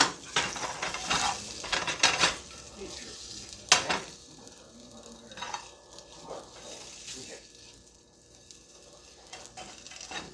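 Eggs frying in a pan on a stove while making a vegetarian breakfast, a steady sizzle under clinks of pots, pans and utensils, with loud stirring bursts early on that ease into a softer crackle.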